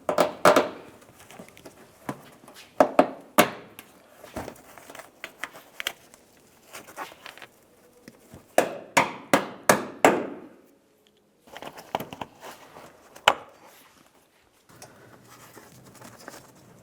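Plastic push clips are pressed into a 2005-2010 Dodge Dakota inner fender liner, giving a series of sharp, close snaps and taps in irregular clusters with brief pauses, and no talking.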